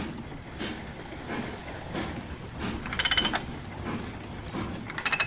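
Train set moving off in the Railroads Online video game, a steady rolling rumble with periodic clicks and brief bright clanks near the end, moderately loud with no talk.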